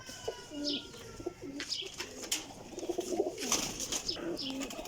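Pigeons kept as female flying birds coo softly and repeatedly at close range, with a few scattered chirps and light rustling in the background.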